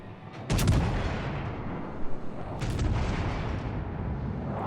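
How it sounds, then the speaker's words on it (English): A battleship's main guns fire in World of Warships, two loud booming shots a couple of seconds apart, each followed by a rumbling roar with no talk. "So you can see we shot one shell there."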